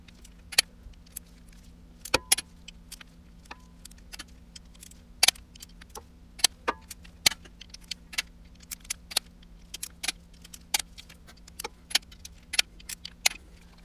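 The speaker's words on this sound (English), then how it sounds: "they tell you to tighten the front cover bolts to 18 foot-pounds" Sharp metallic clicks and ratchet ticks from a wrench tightening the bolts on an LS engine's front timing cover, irregular and close, with a faint steady hum underneath and no speech.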